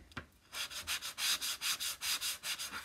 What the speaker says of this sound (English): You always have to do a little sanding.